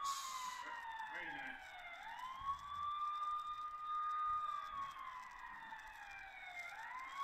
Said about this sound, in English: now is the siren of an ambulance